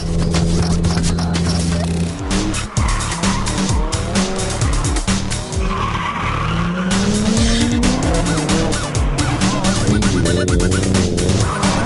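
An early-2000s D1GP drift car's engine and exhaust roar loudly, revving up and down as the tires squeal in long skids close by.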